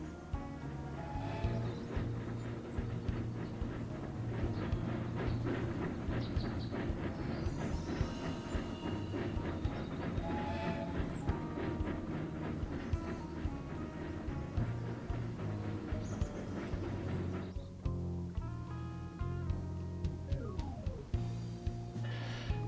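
A train runs in a railroad video game, with continuous rumbling wheels, steady rhythmic clicking and some metallic tones over about twenty seconds, loud and close, with no speech.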